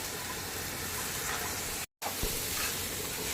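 Chicken curry with ground spice powder being stirred in a pan, giving a steady close sizzle and hiss with scraping stirs, broken by a brief silent gap.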